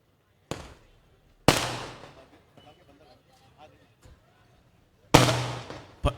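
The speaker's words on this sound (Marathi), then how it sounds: "कृपया फटाके बंद करावे." Firecrackers burst at a political rally, with several loud, sharp cracks, each trailing off in crackling echoes, separated by quieter stretches with faint crowd sounds.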